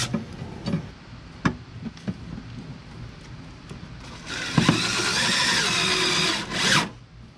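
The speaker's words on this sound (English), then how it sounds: "that is gonna be where I'm gonna drill just a small little hole just to get it started" A power drill bores a small pilot hole into a metal bracket while a switch panel is mounted on a Lexus GX460. The high, steady whine runs for about three seconds after a few scattered knocks and clicks.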